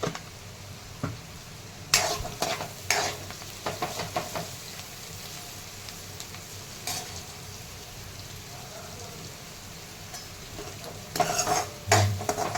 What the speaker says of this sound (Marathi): छान परतायला लागलेलं आहे